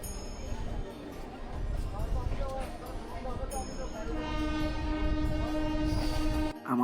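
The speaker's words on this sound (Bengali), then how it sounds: "আমাদের ট্রেন ছেড়ে দিল বোলপুর শান্তিনিকেতন স্টেশন" A passenger train pulls out of Bolpur Shantiniketan station in Birbhum, its steady heavy rumble and wagon clatter carrying a long sustained horn blast through the latter half, with voices faintly audible beneath.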